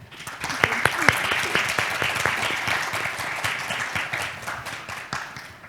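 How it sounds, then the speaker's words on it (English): An audience applauds panel speakers at an evening career talk, steady dense clapping throughout with a few sharper nearby claps standing out early, gradually tapering off toward the end. "join me in giving them a round of applause again."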